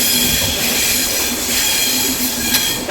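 A train pulls into Kollam railway station with a loud, continuous roar, high metallic wheel squeal ringing over the rumble.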